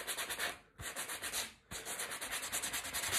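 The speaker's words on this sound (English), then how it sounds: "all I'm gonna do now is just give it a little light rub" Light hand rubbing of furniture scratch-cover wax on a chipped handrail corner, a steady rhythmic scrubbing in repeated strokes with two brief pauses, close and fairly loud, no voices.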